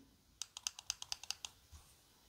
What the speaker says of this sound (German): So, 5-mal Klick geht er an.